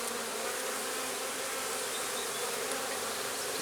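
Honey bees buzzing at an opened hive during a beekeeping inspection that shows signs of swarming. A steady, dense, close drone of many bees carries on throughout, with no talk.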